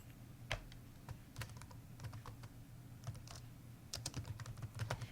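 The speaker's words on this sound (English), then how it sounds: "You can click on reply and type in your reply." Rapid, irregular key clicks on a computer keyboard as a reply is typed, quiet and close, in short bursts with a faint hum underneath and no talking.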